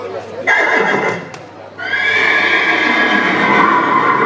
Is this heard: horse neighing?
yes